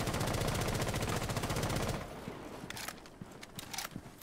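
Rapid automatic gunfire in the Rainbow Six Siege video game, a loud sustained burst for about two seconds, then scattered sharper single shots and clatter at lower level.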